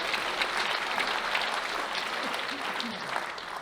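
A live stand-up comedy audience claps and cheers in a steady, dense burst of applause that fills the room from start to finish with no talking over it.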